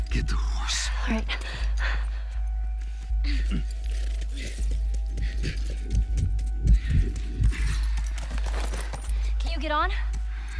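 Video game horse hooves clop in an irregular walking rhythm over a low, constant hum, with faint voices and rustling now and then, in The Last of Us.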